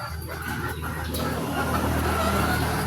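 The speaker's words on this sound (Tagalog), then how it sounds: "Napakagandang manok po." Small gamefowl stags being shown in a backyard for breeding, with soft clucking amid a busy outdoor background hum, close and steady throughout, no talk.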